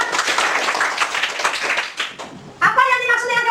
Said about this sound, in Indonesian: Oke, tepuk tangan buat Juan.